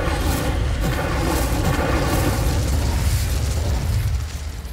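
A fiery spell explosion in a video game roars loud and continuous, a dense rumbling blast that sustains for several seconds before easing slightly at the end.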